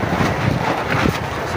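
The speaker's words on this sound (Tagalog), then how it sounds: "Sobrang lakas ng hangin." Strong, gusty wind roaring across the microphone, loud and continuous with slight surges.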